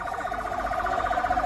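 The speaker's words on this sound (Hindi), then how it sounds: "इसके बाद कैसे अफरा तफरी, एम्बुलेंस की आवाजाही आप देख पा रहे हैं।" An ambulance siren wails at Nasser Medical Complex in Khan Younis, a loud, close, rapidly warbling tone that cycles steadily without a break.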